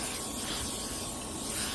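Permethrin spray hisses steadily from a can onto clothing at close range, a continuous broad airy spray lasting the whole moment with no talk over it.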